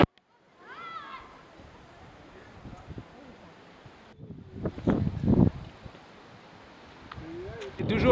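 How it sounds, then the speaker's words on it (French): Headwind roars steadily past a cyclist riding in the Creuse countryside, a continuous rushing buffet over the microphone that surges louder midway, with someone talking under it. "Je commence à avoir pas mal de vent de face."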